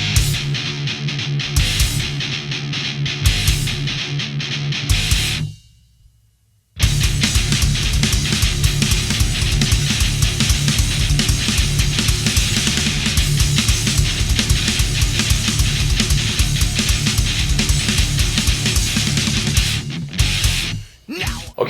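Heavy metal guitar riff from the next section of a song: loud, dense distorted chugging with a few choppy stops at the start, a short silence, then a long sustained wall of riffing.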